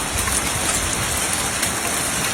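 A hailstorm over Grafton, Australia, heard as a dense, steady hiss of falling ice and rain hammering surfaces, loud and continuous with no voices.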